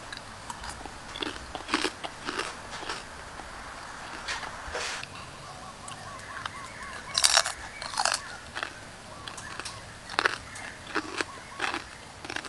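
Repeated crunchy bites into crispy roll pork crackling, sharp close-up crackles scattered irregularly over several seconds with quieter chewing between, and little talk.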